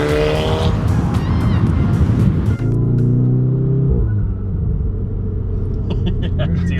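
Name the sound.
turbocharged 500hp stage 3 VW Golf R engine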